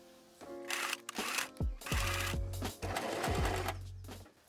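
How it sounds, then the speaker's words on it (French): A sewing machine stitches along the fold of bias binding for a blouse, running in several close, steady bursts with short pauses between them and no talking. "je vais vraiment coudre le long de cette pliure"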